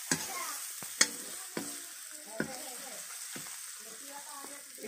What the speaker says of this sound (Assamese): এইখিনি অলপ আৰু অলপ ভাজিম।